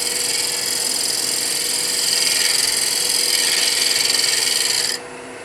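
A wood lathe tool made from a 3/8 inch bar with a 10.7 millimeter cutter shaves a spinning wooden faceplate, giving a steady bright hiss that cuts off abruptly near the end.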